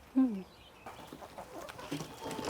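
Backyard hens, Plymouth Rock and Rhode Island Red chickens, give a loud close cluck at the start, then softer scattered clucking and murmuring continue with a person speaking among them.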